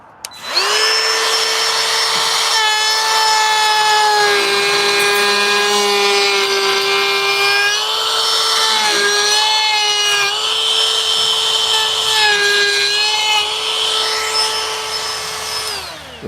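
A router rounds over the edge of a wooden cutting board, producing a loud, steady high-pitched whine that runs continuously and close up, with slight dips as the bit bites into the wood.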